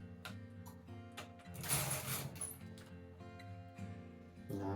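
Knitting machine carriage being pushed with difficulty across the bed of a machine with a fault, giving faint, close mechanical clacks and rattles with a brief louder scraping burst midway.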